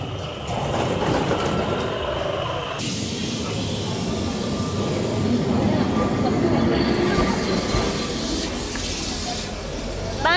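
A steady loud rumble and rattle of a Lisbon tram rolling past nearby, continuous for the whole stretch, with voices faintly mixed in.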